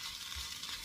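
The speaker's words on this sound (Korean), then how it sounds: "들기름으로 이렇게 코팅을 시켜줘야 맛있게 볶여져요." Dried radish greens (siraegi) stir-fried in perilla oil, a steady close sizzle with faint stirring scrapes running unbroken for under a second, with no voices.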